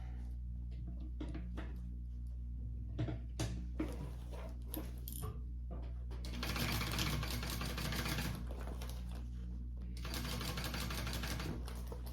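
A sewing machine stitches vinyl or leather handbag pieces together along a 3/8 inch seam, running in short bursts of rapid mechanical stitching with pauses between, then a longer steady run, close and moderately loud.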